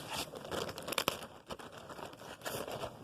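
A custom paper fur pattern is handled and crinkled, giving steady rustling with a sharp crunch near the middle, close and fairly quiet.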